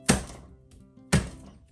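Garlic being roughly chopped with a knife on a board for rasam soup: two separate heavy chops about a second apart, close and fairly loud, with quiet pauses between them.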